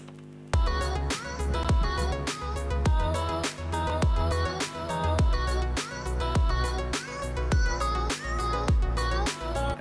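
Electronic beat with punchy kicks and snappy hits on a steady rhythm, topped by a chopped vocal melody of short pitched syllables, loud and continuous.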